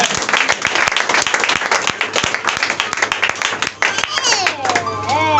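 A church congregation at a French-language Sunday worship service claps and applauds steadily throughout, dense and close, with voices rising and cheering toward the end.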